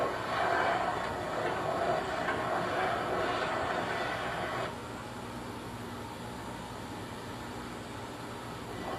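A steam locomotive rumbles steadily through a rail yard with a broad mechanical roar that drops a little partway through, continuing as a lower, even drone.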